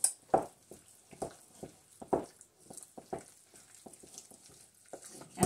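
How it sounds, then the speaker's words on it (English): Beans with their juice are stirred in a pan, giving a run of wet squelching scrapes and soft sizzling pops in an uneven rhythm, close and fairly quiet, with no talking. "Mix it up real good."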